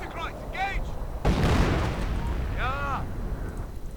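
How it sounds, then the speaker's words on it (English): Artillery fire strikes an immobilized Panther tank in a Men of War tank battle game, with a heavy blast at about one second followed by rumbling impacts, under a constant bed of battle noise and someone talking throughout. "Panther coming under fire, immobilized, easy target there for the American artillery"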